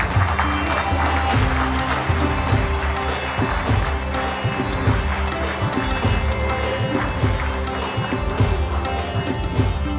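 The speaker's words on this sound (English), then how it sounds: "Ladies and gentlemen, let's welcome with a huge round of applause" Audience at a Foundation Day and National Management Day ceremony applauds an award recipient, a dense, steady wash of clapping mixed with strong low music or hum throughout, with no speech over it.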